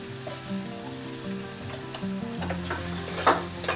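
Mustard paste and turmeric frying in a pan for a village-style dish of tender elephant foot yam stalks, a steady close sizzle under repeated scraping stirs, with a louder clatter of the spoon near the end; no one speaks.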